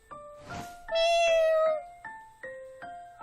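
A black cat meows repeatedly in a video game in short, clear, tonal calls, with one long drawn-out meow in the middle, set against a quiet background.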